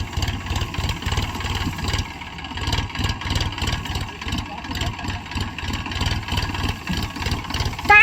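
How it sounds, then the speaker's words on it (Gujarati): A tractor engine labours while the tractor sits sunk in the ground, a steady mid-pitched diesel throb with pulsing beats and slight rises in revs, loud and continuous throughout. "ટ્રેક્ટર દટાઈ ગયું આખું."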